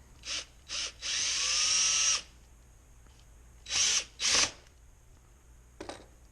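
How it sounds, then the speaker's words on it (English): A power drill bores a hole through a Corona 3354 weeder, with several short bursts, one long sustained run around a second long, then two more bursts and a brief final spin, close and loud. "I put this back in the drill to just kind of help me very quickly get this the rest of the way through here"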